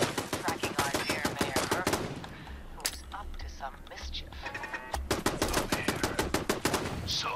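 Rapid bursts of automatic gunfire from a Fallout 4 firefight, loud and close, clustered at the start and again near the end with a quieter stretch of combat noise between, while a player talks over it.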